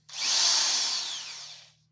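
A cheap Chinese Dorkel DRD 500 electric drill runs in one loud, close burst of nearly two seconds, a steady high whine that fades as it stops, with no voices.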